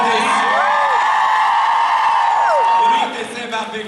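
Houston convention crowd roars and yells in a big room, a dense sustained wash of cheering with rising whoops that fades after about three seconds.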